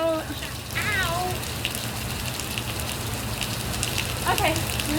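A Caribbean rainstorm hisses steadily throughout as a dense, even wash of rain, with faint voices briefly audible near the start and end.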